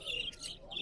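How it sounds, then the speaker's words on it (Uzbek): Amadina finches at a bird market in Margilan give bright, high chirps, a few quick calls in under a second, fairly close but soft against faint background noise. "Amadinkalar."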